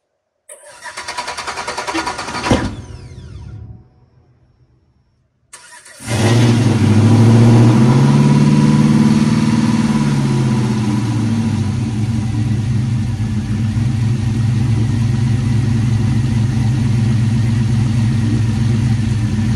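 A turbocharged truck engine cranks and runs roughly, cuts out into a few seconds of silence, then restarts and settles into a loud, steady, close idle with a deep rumble.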